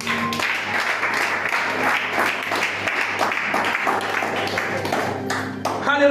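A church congregation applauds to acclaim God, with a steady, dense wash of clapping from many hands. Voices and music run underneath, and the applause swells toward the end.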